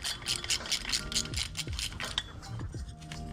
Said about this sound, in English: I'm gonna go ahead and pull this nut off